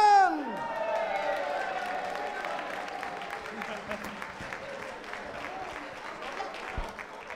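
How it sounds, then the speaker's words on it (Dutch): A live audience at the Sparkstad song contest applauds the presenter, a steady wash of clapping with scattered cheers that swells at the start and then holds at a lively, even level. "En we vragen een speciale aandacht en een applaus voor presentatrice."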